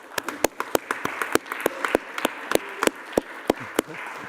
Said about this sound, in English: I think we should all give Charles a round of applause